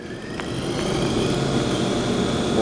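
The spindle of a 2004 Haas VF2B vertical machining center spins up past 3,000 RPM, a steady whirring whine with rising tones over a constant mechanical hum, close and continuous.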